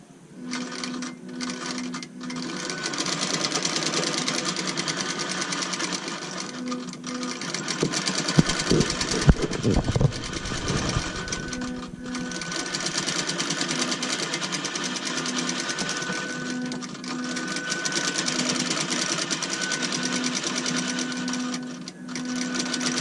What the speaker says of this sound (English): Needle up, needle down, pull my thread. Tell it to go.